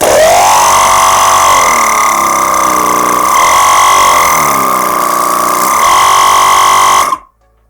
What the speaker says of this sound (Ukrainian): Зараз ми під'єднаємо компресор на 12 вольт і послухаємо, як він буде спрацьовувати.